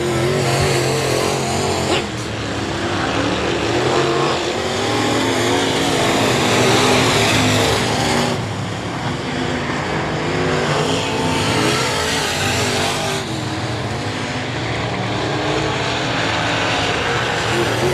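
Race cars roaring around the I-37 Speedway oval during a heat race on the final lap, engines loud and continuous with a steady dense drone that swells and dips as the cars pass.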